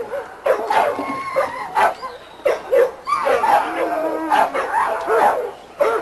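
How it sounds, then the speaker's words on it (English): Young American pit bull terriers, about six months old, barking and yipping on a yard, loud and close, in repeated short bursts with brief whimpers between, with someone talking nearby. "This is the dog we call Pecos."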